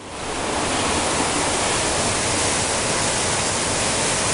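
Creek water rushes through a desert canyon as a loud, close, unbroken hiss and roar that swells in at the start and then holds steady, with no voices.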